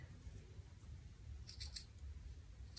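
Scissors cut a ribbon with a short, faint snip, heard alone against quiet background noise.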